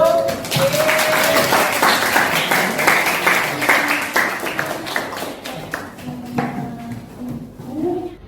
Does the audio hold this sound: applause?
yes